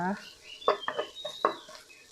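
Thai garlic being stir-fried in olive oil in a pan, with a soft steady sizzle under several louder scraping and clattering strokes of a utensil against the pan, heard close and alone.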